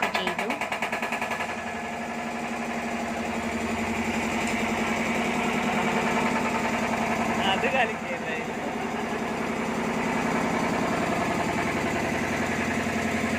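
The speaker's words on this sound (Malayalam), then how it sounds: "അച്ഛൻ ഇവിടെ ജനറേറ്റർ ഓണാക്കാനുള്ള ശ്രമത്തിലാണ്." A generator is being started and runs with a continuous, vibrating engine drone that rises slightly partway through, with a voice speaking over it.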